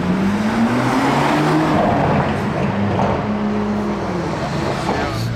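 Ferrari 812 GTS engine on a street in Monaco, a loud, close drone that rises and then eases off, with a steady roar of other traffic around it.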